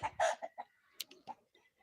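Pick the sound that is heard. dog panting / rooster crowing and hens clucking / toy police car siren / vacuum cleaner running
rooster crowing and hens clucking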